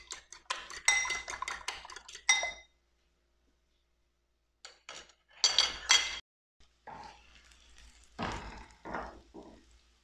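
Eggs being whisked in a bowl with a utensil, giving bursts of rapid close clicking and clinking separated by quiet gaps, heard alone with no talking.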